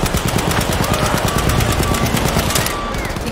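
Dense automatic gunfire crackles in Battlefield 5, a loud, close, rapid rattle of shots that runs without a break.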